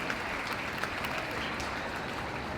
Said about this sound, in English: big loud applaud of appreciation for Gnaneshwari